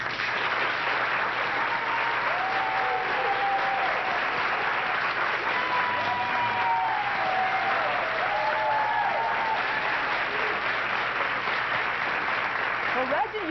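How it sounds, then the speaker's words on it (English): A studio audience on a daytime talk show applauds and cheers steadily as a guest with neurofibromatosis is welcomed, with continuous dense clapping and scattered whoops throughout. "What's it like to hear people cheering for you?"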